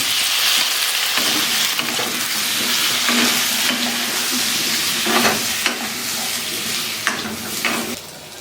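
Potatoes dropped into hot oil in a pan with a little turmeric, frying with a loud, dense, continuous sizzle. Occasional stirring scrapes rise above it before the sound softens at the end, and there is no talking.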